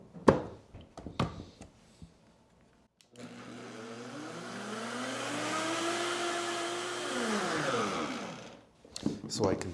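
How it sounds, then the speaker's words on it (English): A blender whirs steadily for several seconds as it purees a thick soup thinned with vegetable stock, its pitch sliding down and then up as the load shifts. Clinks and knocks of handling come before and after it. "Now I do want to clean out my blender."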